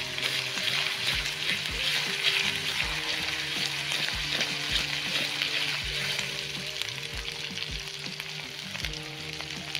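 Chicken curry masala fries in a pan with ginger-garlic and cumin paste while being stirred, giving a steady loud sizzle with a regular thump of stirring strokes throughout.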